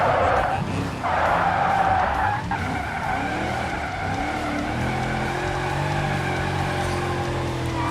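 Low-horsepower car sliding and skidding in a racing video game, with continuous tire squeal and a steady engine drone, loud and close throughout, with brief talk near the start.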